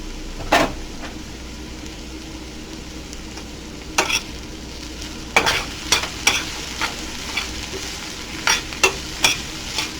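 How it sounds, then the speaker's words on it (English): Onions and celery fry in butter in a pan with a steady, soft sizzle, broken by sharp scraping clicks as a utensil stirs them at irregular intervals, close and alone. "You want to keep stirring your onions and your celery."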